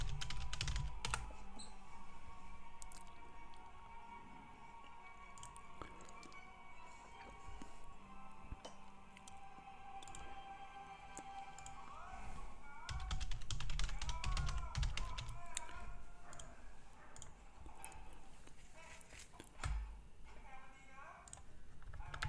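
Rapid clicking taps of a computer keyboard as a username is typed, fairly faint and steady, with someone talking over the keystrokes.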